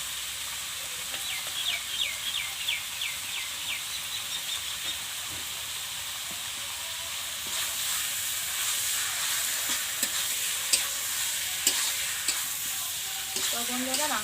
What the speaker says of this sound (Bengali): মাংসতে নুন আর হলুদ দিয়ে ভালোভাবে ভেজে নেব।